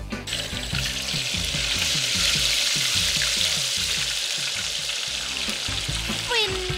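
Pork sizzles and spits as it deep-fries in a pot of hot oil to make crispy pork skin, a loud, close, continuous crackle with no pauses.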